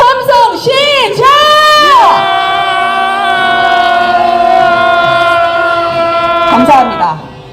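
A crowd on a street protest march in Myeongdong calling for the impeachment of Yoon Suk Yeol raises a loud, sustained unison roar of shouting and cheering, with pitched whoops rising at the start and a final swell before it cuts off.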